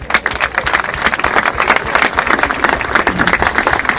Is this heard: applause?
yes